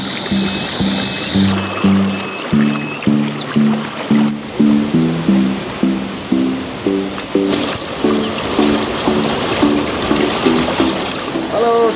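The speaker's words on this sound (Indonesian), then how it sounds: "Saya di sebuah sungai" A fast-flowing river stream in a forest, a continuous rushing wash of water running beneath loud, rhythmic music with repeated tonal notes.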